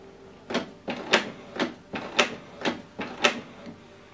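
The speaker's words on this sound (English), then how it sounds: "So right now it's printing." A Canon TS3551i inkjet printer runs a head alignment page, giving seven evenly spaced mechanical bursts of about half a second each as the print head shuttles back and forth, close and fairly quiet with no talking.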